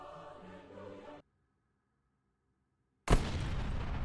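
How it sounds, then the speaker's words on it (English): The Holy Hand Grenade in the video game Space Station 14 goes off as a sudden, loud, close explosion with a sustained roar, following a short burst of sound and then near silence. "Gigantic explosion that will essentially kill anyone caught in the radius"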